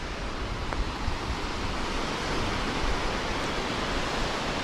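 Steady, dense roar of waterfalls in the Chulyshman river canyon, a continuous broadband rush with no pauses, fairly loud and close throughout.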